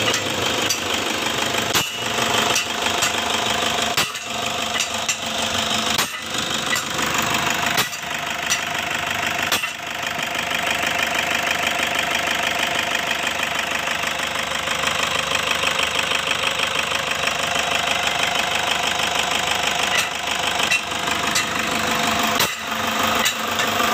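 A Toyota Fortuner diesel engine runs steadily with a loud, rough, knocking clatter, close up and unbroken by talk, with a few brief sharp clicks scattered through it.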